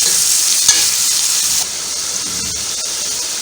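Chicken frying hard in a karahi for Peshawari Shinwari karahi, a loud, dense sizzle that runs steadily throughout, dropping a little in intensity partway through, with scattered spitting crackles and no talking.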